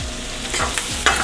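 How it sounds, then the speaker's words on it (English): Food sautéing in liquid butter in a pan, a brief continuous sizzle with a few quick scraping stirs, close and fairly loud, no speech. "Saute a little bit."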